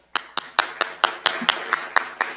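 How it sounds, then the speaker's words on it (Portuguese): Rhythmic, evenly spaced clapping at a solar energy conference in Curitiba, about ten crisp close claps in unison at a steady beat, loud and without talk. "FIEP, nosso parceiro, uma salva de palmas."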